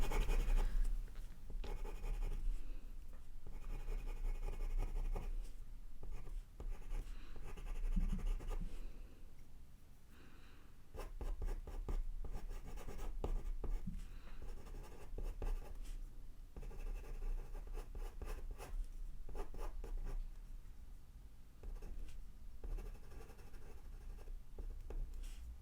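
Coloured pencil drawing on paper, with steady close scratching strokes for the whole stretch that pause briefly now and then and continue without talk.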